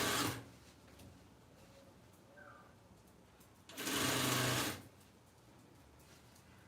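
A sewing machine stitches a fabric strip, starting at the center with a backstitch. Two short bursts of whirring run separated by a pause, close and fairly quiet, with no voices.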